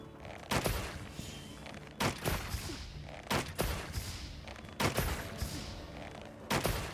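Bow shots alternating with sidesteps in Monster Hunter Wilds: five sharp, loud released arrows spaced about a second apart, each followed by the rustle and thud of a quick dodge.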